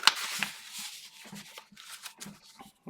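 Scissors trimming the flaps off a junk-mail paper envelope, a series of close crisp snips and papery rustles in an irregular rhythm.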